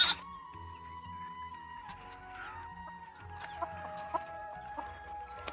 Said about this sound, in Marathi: या संपूर्ण अशा कोंबड्या